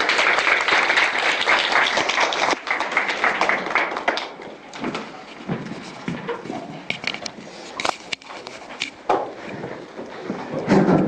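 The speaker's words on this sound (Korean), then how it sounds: "박문호 박사님을 큰 박수로 모시도록 하겠습니다" A lecture audience gives a loud, dense round of applause to welcome the lecturer, Dr. Park Mun-ho, before his talk on cosmic evolution. The clapping thins after a few seconds into scattered claps, thumps and room noise.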